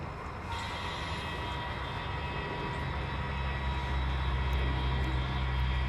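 A continuous low rumbling and whirring of a model train running steadily on a layout, with a faint higher hum, no talking.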